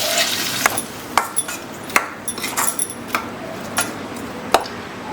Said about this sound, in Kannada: ಇವಾಗ ರುಬ್ಕೊಂಡಿರೋ ಸೊಪ್ಪು ಸೇರಿಸ್ಕೊಂಡ್ಬಿಡೋಣ